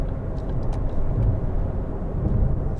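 A 2013 Ford Focus 1.6 TDCi ECOnetic diesel picks up speed, giving a steady, moderately loud low rumble of engine and road noise from inside the cabin with no one talking.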